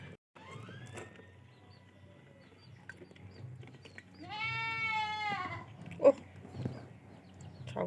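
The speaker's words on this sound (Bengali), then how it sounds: "ভিডিও করার সময় না এই ছাগলগুলো জন্য বড্ড বেশি চিৎকার করে" A single long, wavering goat bleat rises midway through, loud and close over a low background hum, followed by a brief sharp knock.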